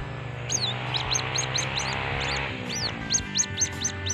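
A white-breasted waterhen chick chirps in a quick series of high, sharp peeps, repeated rhythmically and close, over a low steady background hum.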